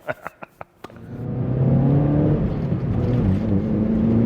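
A few sharp clicks, then a classic Mini's engine starts up and runs steadily with a low, continuous hum as the car drives along a road.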